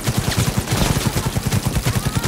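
Rapid automatic gunfire in the video game Cyberpunk 2077, set in Night City: loud, tightly spaced shots in a continuous burst.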